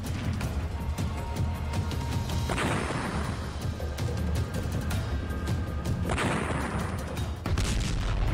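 Explosions from drone combat footage in the Russia–Ukraine war, two sharp blasts several seconds apart, each followed by a decaying rumble over constant loud background noise.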